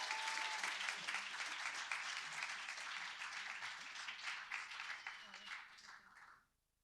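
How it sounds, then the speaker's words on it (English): Event audience applause greets a speaker coming to the stage at a Techspace and Antler gathering: a sustained round of clapping that gradually thins and fades to silence at the end. "But if you can give a big round of applause to Martina as she comes to the stage."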